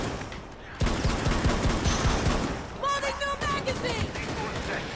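Rapid gunfire in Rainbow Six Siege, dense bursts of automatic shots crackling loudly after a brief quieter lead-in, with a voice talking over the shooting.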